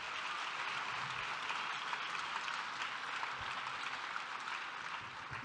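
An audience at the Cersaie 2022 event applauds as a greeting, a steady wash of clapping that sounds faint and distant and continues evenly throughout.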